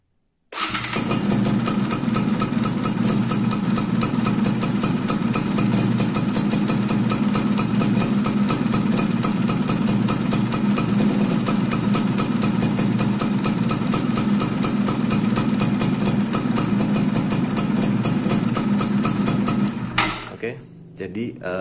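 A Yamaha F1ZR two-stroke motorcycle engine idles steadily and loudly for about twenty seconds, a dense continuous buzz with rapid firing pulses, close by, then cuts off abruptly near the end.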